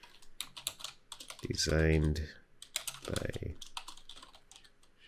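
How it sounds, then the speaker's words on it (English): Quick bursts of keystrokes on a computer keyboard, close and crisp, broken up by someone talking over them. "just click here to the left and start typing."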